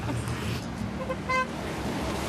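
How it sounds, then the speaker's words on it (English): Car horns toot briefly in street traffic, one clear honk standing out over a steady roadway rumble and murmur of passing vehicles. "Can't tell if people are honking because of the traffic or if they're honking for us."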